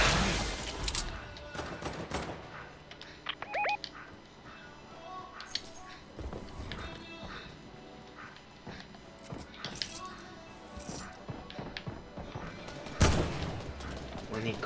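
A new gun fires in the Fortnite video game in rapid bursts of sharp gunshots mixed with footsteps and game effects, fairly loud and close, while a player talks.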